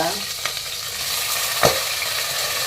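Chicken frying in a pan is stirred, giving a steady loud sizzle with a soft scrape or two from the spoon, close up and without speech.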